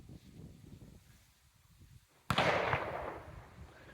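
A single sharp, loud 9mm gunshot from an ALTOR zipgun cracks nearby and rings out briefly before fading, over quiet outdoor background noise.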